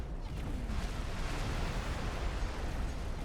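Ship explosion in the space game X4 Foundations, a dense, continuous roar of rumbling blast noise that stays loud and steady throughout, with no voices.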